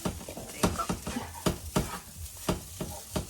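Coconut curry fries in a pan under repeated scraping strokes of a spoon, each stir a short rhythmic swish over a low sizzle, close and moderately quiet.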